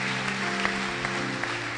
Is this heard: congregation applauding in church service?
yes